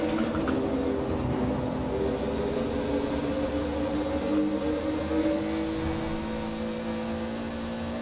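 A Toyota Supra in the Forza Horizon 4 video game drones through a tunnel, its engine roar dense and steady with a sustained reverberant hum and no breaks.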